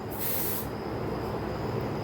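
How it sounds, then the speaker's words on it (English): Perfume sprayed from a bottle, one short close hiss of about half a second, alone in a quiet room. "Now I'm going to spray a perfume and I bet you can smell it in just a few seconds."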